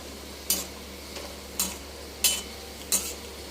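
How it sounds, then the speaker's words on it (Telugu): Dried ash gourd vadiyalu frying in oil, a soft steady sizzle beneath four short, crisp stirring scrapes spaced roughly evenly, close and fairly quiet. "ఎండినాక వేయిస్తున్నాను గుమ్మడికాయ వడియాలు"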